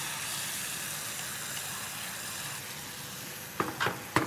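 Fish sauce hitting a hot pan of frying garlic and tamarind gives a steady, soft sizzle throughout. A few sharper crackles and spatters burst out near the end.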